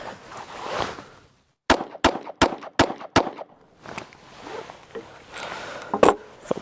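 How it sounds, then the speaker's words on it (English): Five sharp, evenly spaced shots from a stock, unported Springfield Hellcat Pro pistol, loud and close, with a quiet gap just before them and muffled outdoor rustling on either side. "now we're going to shoot the Hellcat Pro stock. About 5 rounds in there."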